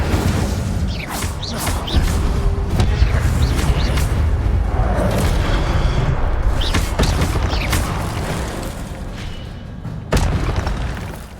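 The Incendio fire spell is cast in Hogwarts Legacy on PS5: a whooshing burst of flame with booming, crackling impacts that swell and fade, then a sharp hit near the end.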